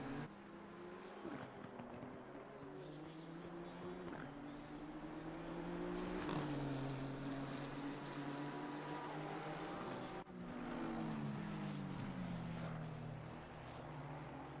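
A Nissan GT-R R35 race car in a sim racing game drones along a Japanese circuit, its engine rising and falling through gear changes and lifts, at a steady, moderate level throughout.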